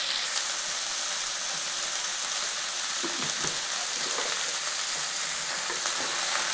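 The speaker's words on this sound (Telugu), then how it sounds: "ఇప్పుడు బాగా ఫ్రై అయిపోయింది." Cluster beans fry with lentil powder in a pan, giving a loud, steady sizzle that runs throughout, with a few soft scraping stirs partway through.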